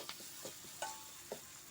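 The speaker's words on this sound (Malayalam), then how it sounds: "നമുക്ക് ഉള്ളിയിട്ട് വയറ്റാം ഉള്ളി ശരിക്കും വയറ്റട്ടെ" Faint sizzle of onions frying in a pan for pappadam fry, broken by a few soft scraping stirs and light clinks at irregular intervals.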